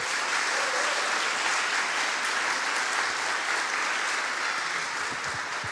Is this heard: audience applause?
yes